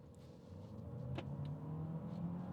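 A Renault Austral accelerating hard from standstill toward 100 km/h, its engine note holding steady and droning at high revs from inside the cabin, with a faint click partway through.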